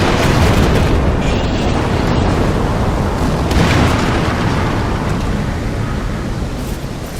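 A loud, continuous roaring rumble fills a PlayStation 2 game scene, like the drawn-out aftermath of a big explosion with rushing water, steady and dense throughout with no clear pauses.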